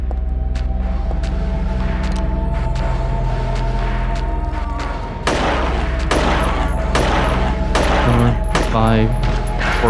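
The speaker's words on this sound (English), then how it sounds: "Four shots." Gunshots ring out in Silent Hill 3, sharp reports cutting through a droning, humming game ambience, with several clustered bangs in the later seconds.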